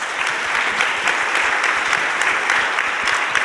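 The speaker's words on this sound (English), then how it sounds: "Let's give them all a round of applause." An audience at a computer science education conference applauds steadily, a dense close wash of many hands clapping that holds evenly throughout.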